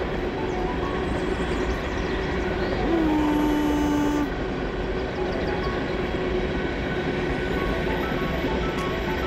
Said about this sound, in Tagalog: Okay. Ayun ang train.